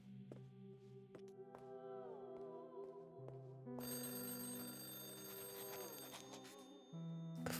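A telephone rings in the puzzle video game Lorelei and the Laser Eyes: a sustained electronic ringing tone with shifting pitches and a brighter, harsher stretch in the middle, fairly quiet, with no talking.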